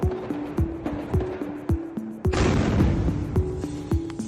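New Year's Eve fireworks in Germany burst in a rapid series of sharp pops and booms, with denser crackling and rumbling in the second half, loud and fairly close, with no talking.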